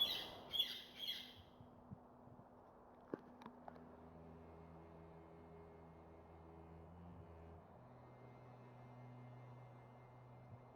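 A brief cluster of high, twittering bird chirps sounds outside at the start, then fades, leaving quiet ambience with a low, steady hum.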